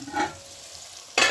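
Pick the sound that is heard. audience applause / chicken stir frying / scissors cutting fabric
chicken stir frying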